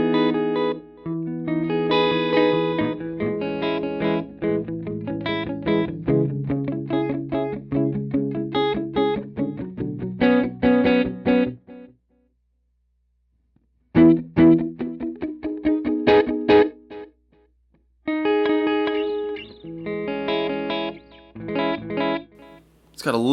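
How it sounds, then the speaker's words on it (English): Electric guitar through the modern digital delay mode of a NUX Duotime dual delay pedal, lightly modulated, strummed chords and picked lines with echoing repeats and two short pauses, loud and close with no talking. "And now we have the modern digital delay."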